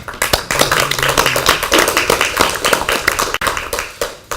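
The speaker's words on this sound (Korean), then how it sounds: "우리가 다 같이 힘찬 격려의 박수로" Brisk, loud clapping from legislators at a party caucus meeting in a hall, close and uneven hand claps with a brief murmur of voices underneath.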